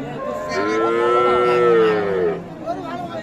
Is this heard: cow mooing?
yes